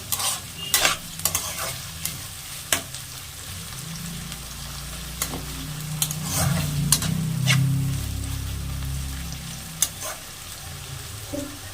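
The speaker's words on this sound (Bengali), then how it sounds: "দিয়ে আমি পেঁয়াজটা হালকা করে ভেজে নেব।" Onions with a pinch of salt fry lightly in a pan over a high gas flame, a soft, steady sizzle broken by sharp clinks and scrapes of a spoon stirring, close by.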